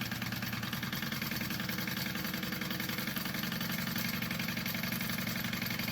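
A sewing machine stitching a quarter-inch seam on a bag's pocket tube, a steady fast mechanical whirr with rapid regular needle pulses, running continuously and close with no talking.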